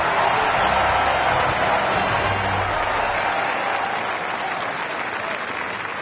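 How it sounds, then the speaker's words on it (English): A video-game golf crowd at a PGA Tour event roars and applauds after an eagle: dense, steady cheering and clapping that fills the whole stretch and eases off only slightly toward the end. "Crowd's going wild out there."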